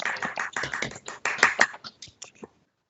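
Scattered, uneven claps from a handful of remote webinar participants on open microphones, a quick patter of about a dozen hits that thins out and stops within three seconds.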